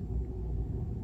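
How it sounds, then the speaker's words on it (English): A steady low rumbling hum from a running gas heater inside a van, constant and close, with no voices. "That's the sound of my gas heater,"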